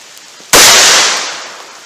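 A single loud .38 Special gunshot fired with a 110 grain Federal Premium Hydra Shot load, a sharp close crack that decays slowly over more than a second, with no talking around it.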